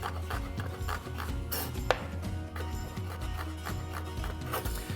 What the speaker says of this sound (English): I'm gonna start with the shallot, peeled and sliced in half. I'm just gonna make thin slices.